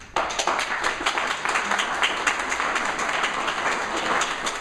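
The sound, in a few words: audience applause at a mayoral debate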